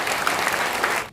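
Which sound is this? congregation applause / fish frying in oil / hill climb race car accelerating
congregation applause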